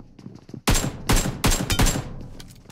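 Four loud, close gunshot bursts in a battle royale game, spaced roughly half a second apart after a quiet start, each with a sharp crack and a short ringing tail.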